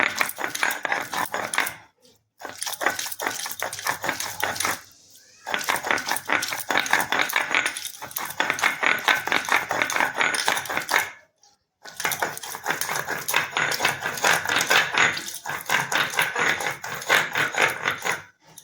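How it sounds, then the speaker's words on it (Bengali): Spinach leaves being ground by hand on a traditional Bengali stone slab with a grinding stone (shil-nora), a continuous rhythmic scraping and rasping of stone on stone in long close-up bursts separated by brief pauses. "ওই জন্য আমি শিলনোড়াতেই বেটে নিচ্ছি।"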